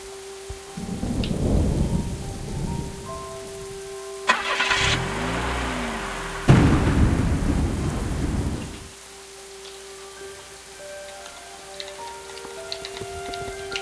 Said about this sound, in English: It is foggy and rainy.